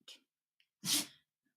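A single sharp sneeze, close and fairly loud, preceded by a quick intake of breath, then quiet.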